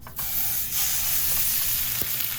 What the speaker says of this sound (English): Now it's time to sear up the steak.